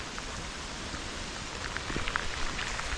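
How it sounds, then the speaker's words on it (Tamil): Monsoon rain falls steadily on Netravathi peak, a dense, even hiss of drops with scattered louder patters, broadband and continuous with no voices. "மழை ஸ்டார்ட் ஆகிடுச்சு பாருங்க, ஃபுல்லாக மழை வந்துக்குது."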